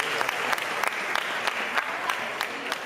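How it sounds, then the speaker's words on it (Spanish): Audience applause at a book presentation in a Valencia cultural venue, a dense steady patter of many hands clapping at close range with a few sharper claps standing out, sustained throughout. "un aplauso también para la editorial"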